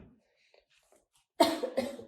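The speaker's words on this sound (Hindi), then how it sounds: "मुझे थोड़ी सी खांसी है" A couple of harsh, close coughs burst out after a stretch of near silence, loud and abrupt.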